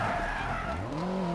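A rally car in the Dirt 4 video game skids under the handbrake, a brief loud tyre squeal whose pitch slides and rises over the continuous roar of the engine.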